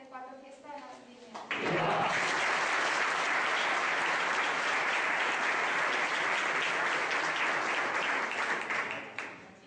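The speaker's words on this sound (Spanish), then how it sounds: "Y también un merecido aplauso para Violeta" A brief voice is followed by a sudden burst of loud, sustained applause from a large crowd at Requena's 64th Fiesta de la Vendimia, carrying on evenly for several seconds.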